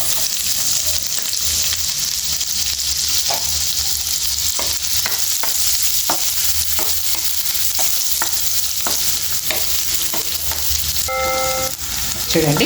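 Onions frying in oil in a pan for cashew chicken curry, with a steady loud sizzle throughout and occasional sharp stirring clicks and scrapes near the end.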